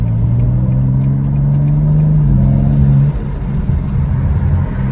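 BMW M4 G82 AWD engine pulling hard at half throttle in sport mode, a loud, steady mid-pitched drone rising and holding for about three seconds, then easing off to a lower rumble.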